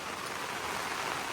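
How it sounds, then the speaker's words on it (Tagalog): Heavy rain pours during a road trip toward Cape Reinga, New Zealand, a dense, steady hiss of rainfall that fills the brief moment without any voices. "Ang lakas ng ulan."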